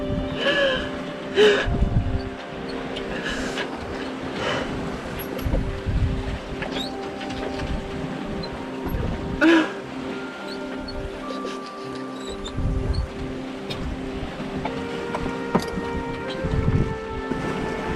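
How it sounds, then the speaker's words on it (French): A small sailboat on a solo Pacific crossing moves through open sea in fine weather, with steady wind and water rush broken by intermittent creaks, knocks and thuds of the hull and rigging. "Le bateau avance un peu mieux."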